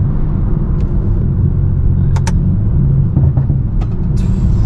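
A BMW F30 335i with an N55 engine on a Stage 2 tune roars loudly and continuously under hard acceleration, a dense low rumble broken by a few short sharp pops and crackles.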